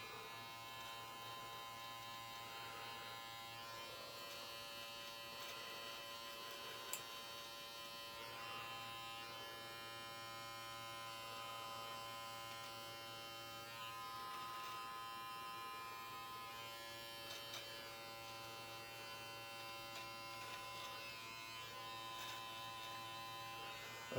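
A Brio Beardscape electric beard trimmer with an adjustable guard buzzes steadily while trimming a beard, a constant close hum with no talking over it.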